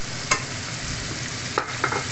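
Pork giniling with potatoes sizzles steadily in a pan after a little water goes in, with a few brief scrapes of stirring over the hiss, close by.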